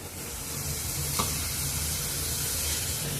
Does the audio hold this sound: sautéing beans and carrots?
yes